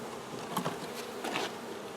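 Steady, soft buzzing of honey bees humming close by at a hive, with a few louder swells as individual insects pass near.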